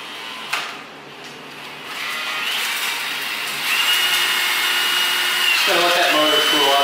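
Electric drill-type motor spinning a paddle to mix concrete in a well room, a steady whirring drone that rises in pitch and speed toward the end, with a brief knock near the start.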